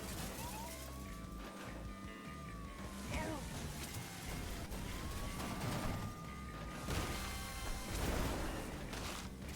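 Wailing police car siren from a truck-delivery video game, rising and falling in two long sweeps over a dense, busy mix of game engine rumble and impacts, fairly loud and continuous.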